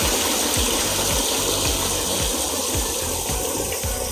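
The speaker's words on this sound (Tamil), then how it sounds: "இது வந்து ஒரு மேன்மேட் அருவி" Water pouring steadily from a man-made waterfall in a Japanese zoo garden, a loud continuous rushing gush heard close up, with a faint rhythmic mechanical thumping beneath it.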